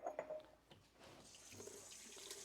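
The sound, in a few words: filling canning jars with hot water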